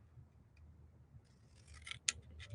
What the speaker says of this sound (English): Let's go ahead and cut this one as well.